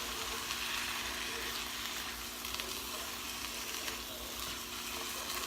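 Green onions fry in a skillet for a creamy chicken and spinach dish, giving a constant broad sizzle with faint stirring underneath.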